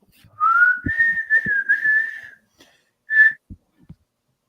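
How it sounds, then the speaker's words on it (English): A clear whistled melody with sustained, gliding notes, pausing briefly before one short final whistled note; a few soft knocks sound underneath. The tune is whistled by the vampire character played by an actor. "He's whistling the tune, right? He's whistling it"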